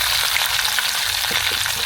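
Curry leaves are stirred into Kerala-style kootu curry in a pan, a brief, dense, steady frying hiss close up with faint stirring movement.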